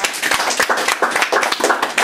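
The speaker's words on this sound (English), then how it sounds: "give yourselves a round of applause for being here" Audience clapping at a six-year anniversary ceremony, a dense, steady burst of many hands applauding together at close range for about two seconds, with no talk over it.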